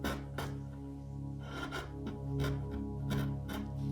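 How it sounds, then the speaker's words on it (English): Sweep chisel carving wood, a series of short scraping strokes in an irregular rhythm, close and soft over a steady low hum. "The sweep chisel removes what doesn't belong."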